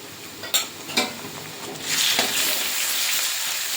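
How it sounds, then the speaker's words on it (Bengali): Ginger-garlic paste and onion masala sautéed in a pan for a jackfruit and prawn curry, with a couple of sharp stirring clanks followed by a steady, close sizzle with no talk. "আদা রসুন বাটাটা দিয়ে ভালো করে মশলাটা কষিয়ে নেব"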